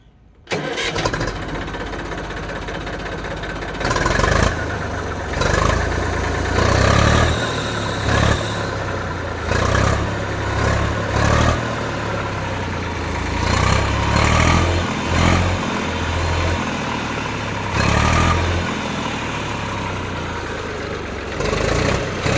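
An Eicher 380 tractor engine in good working order, giving off no smoke, runs at a loud, steady idle nearby with repeated brief surges of revving throughout.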